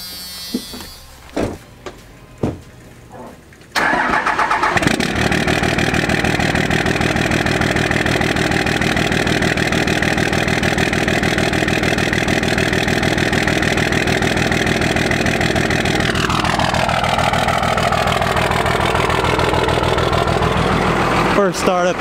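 A 12V Cummins diesel with engine upgrades fires up in a warm garage, a few clanks and knocks giving way to a steady, loud, continuous idle that holds for the rest, its tone shifting slightly near the end.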